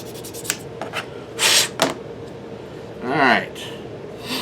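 Fine grit sandpaper rubbed along the front edge of a Mandalorian holdout blaster prop, a few short close scratchy strokes in separate bursts.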